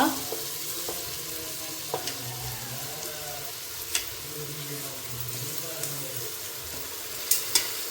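Pulao rice tipped into a pan of fried masala and stirred, giving a continuous sizzle with scraping spoon strokes and occasional sharp knocks against the metal, and no talking.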